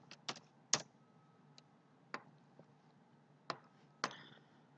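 Keys click on a computer keyboard in a quiet room, a handful of sharp, separate taps spread irregularly with short gaps between them, close and fairly soft.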